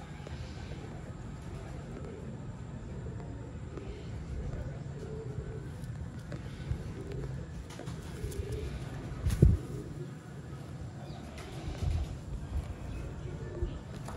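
Golden pigeons coo in soft repeated low calls alongside other bird sounds, with a person talking over them and a brief louder thump partway through.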